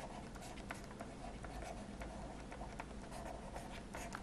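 A pen writes during a classroom lesson, a soft scratchy scribbling of quick strokes and taps repeating steadily and close by, with no talking.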